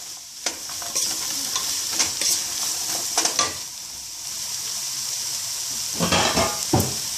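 Seasoned vegetables stirred and tossed in a hot sizzling pan for a pasta primavera, with a steady fry hiss and several louder scraping stirs, clustered early and again near the end.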